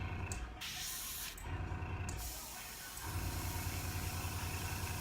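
Airbrush spraying a final coat of paint onto a skull, a close hissing spray in short bursts broken by brief pauses over a low background hum.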